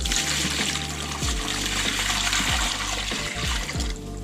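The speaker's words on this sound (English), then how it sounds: "and I'll add some water" Water is poured into a gold panning tub, a continuous close splashing and trickling stream that runs for several seconds with small gurgles and no voices.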